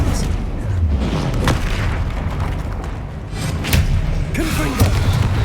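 Spell combat in Hogwarts Legacy near a troll, with an Expelliarmus cast as a series of deep booming blasts and thuds layered over a dense, continuous rumble of game effects and music.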